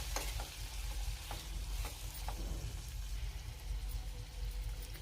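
Chopped bottle gourd fries in a pan with turmeric, a constant soft sizzle broken by several scraping stirs of a spoon, quiet and close.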